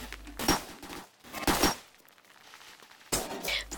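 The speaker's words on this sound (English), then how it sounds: "Today's weapon is the crazy" The R8 revolver fires in the video game CS:GO, three sharp reports spaced about a second apart, loud and close, each with a short tail.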